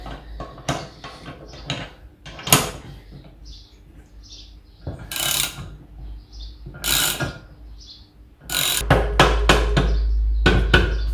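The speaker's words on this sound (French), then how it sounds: "il n'y a plus qu'à serrer pour extraire les carters" An extractor tool is tightened on the crankcase of a Derbi Senda engine to split the halves, giving scattered metallic clicks and ratcheting bursts up close, with louder rapid clicks near the end.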